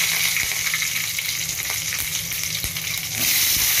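Curry leaves and three green chilies crackle and splutter in hot oil, a loud, close, continuous hiss with scattered pops that swells toward the end.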